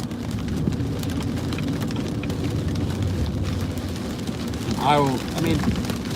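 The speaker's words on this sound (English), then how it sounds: "it's pissing down rain" Heavy rain drumming steadily on a car in California canyon traffic, a dense continuous wash that stays loud throughout, with a brief voice-like sound near the end.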